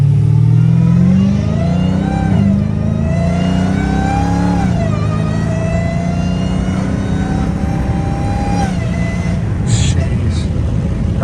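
A Dodge Challenger Hellcat Redeye engine drones loud and close through the gears, its supercharger whine rising in pitch over the rumbling exhaust, with a voice speaking over it.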